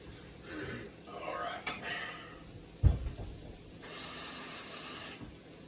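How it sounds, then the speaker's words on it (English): Water poured into a pan of cooking chicken gives a short splash and hiss, followed by a steady running-water wash that fades out, with talk over the start. "All right, I'm going to add some water."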